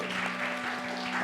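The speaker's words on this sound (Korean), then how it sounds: "우리 박수로 환영하기 원합니다." A church congregation applauding to welcome a visitor during a Sunday service, a steady wash of clapping that fills the whole short moment with a faint hum underneath.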